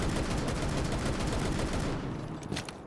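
Rapid DMR gunfire in Rainbow Six Siege on console, a dense continuous burst of shots filling most of the moment before it cuts off, with a couple of fainter shots near the end.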